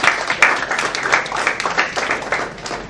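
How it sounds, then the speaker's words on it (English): Audience applause at a gaming-industry forum meetup in Pune, a steady wash of many hands clapping close by for a few seconds, with loud individual claps standing out. "So I think that we deserve another round of applause for the QA."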